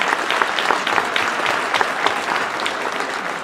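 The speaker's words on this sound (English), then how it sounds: "So give all of our soloists a round of applause." Applause for middle school band soloists at a winter band concert: a dense, steady clapping from a sizable audience, even in level throughout, with no voices on top.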